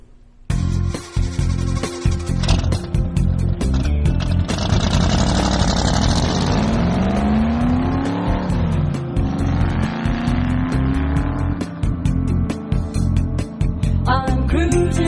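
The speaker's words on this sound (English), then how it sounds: "you'll hear the hot car at the beginning" A hot car engine at the start of a song revs and roars loudly with squealing, rising and falling passes, mixed with music.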